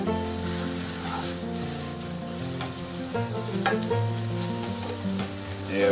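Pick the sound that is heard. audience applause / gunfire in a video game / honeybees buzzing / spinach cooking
spinach cooking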